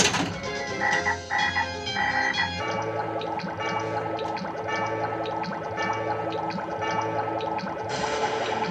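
Electronic frog croaks ring out from a Scared Stiff pinball machine during multiball play, repeated rhythmic croaking over busy machine sound effects and music, close and continuous.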